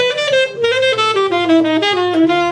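Saxophone plays a quick old-school bebop line, a run of fast legato notes moving up and down, loud and close with no other instruments or voices.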